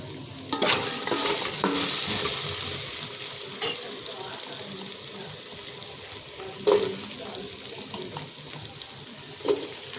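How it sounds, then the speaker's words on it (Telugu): Potato, eggplant, green chilies and bay leaves fry in hot oil, giving a soft hiss broken by several sharp stirring scrapes and clatters at intervals, with brief murmured speech at times. "ఆలుగడ్డ, వంకాయ, పచ్చిమిర్చి, బగారాకులు ఇవన్నీ నూనెలో వేసిందండి."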